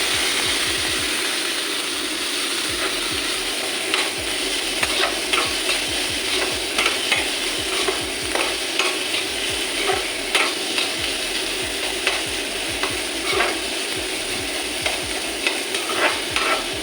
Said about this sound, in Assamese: এইখিনি এতিয়া অলপ ভালকৈ ভাজি ল'ব লাগিব